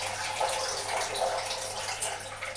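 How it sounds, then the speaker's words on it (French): Water poured steadily into an enema bag beside a bathtub, a continuous close splashing, trickling pour running the whole time with no talk. "vous allez verser l'eau dans la poche, comme ceci."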